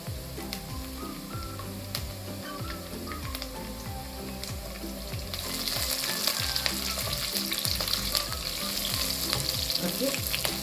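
Green chilies fry with garlic in a hot pan, a dense close sizzle with crackling pops and stirring scrapes, growing brighter and louder partway through, with no talking.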